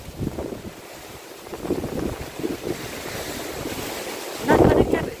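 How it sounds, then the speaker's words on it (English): Strong wind buffets the microphone outdoors in a vegetable garden, rumbling in uneven gusts that swell loudest near the end, with a voice faintly audible in places. "It is so windy out here."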